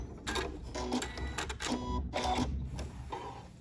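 Janome MC9450 sewing machine stitching a quilted pattern with its quilt guide, a steady mechanical whir and rapid needle clatter running the whole time, close and fairly loud, pausing briefly between bursts.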